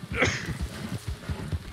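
Horse hooves clip-clopping in the game Red Dead Online, a steady series of low thuds at close range beneath a faint background voice.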